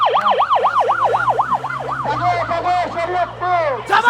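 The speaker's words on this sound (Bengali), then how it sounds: "অ্যাম্বুলেন্স দেখতে পাচ্ছি" A loud ambulance siren wails nearby in fast rising and falling sweeps on a road carrying traffic from Dhaka, then shifts to a different pattern near the end, with traffic rumbling underneath.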